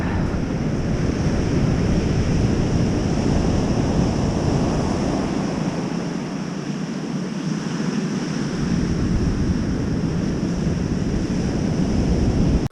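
Surf washes steadily onto a beach, a dense continuous roar with wind buffeting the microphone, loud and unbroken from start to finish.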